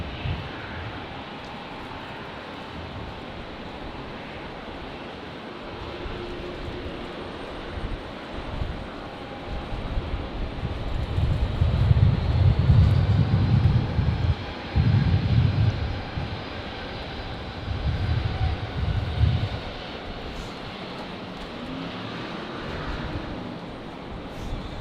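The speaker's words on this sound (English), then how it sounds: "So Virgin 601 here off to Mackay" Virgin Australia airliner departing Brisbane Airport for Mackay on a windy day, a broad steady jet roar with low rumbling swells building and easing, heard at a distance amid wind.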